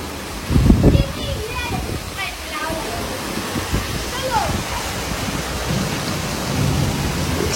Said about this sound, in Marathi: रेन्स सीझनचा पहिला पाऊस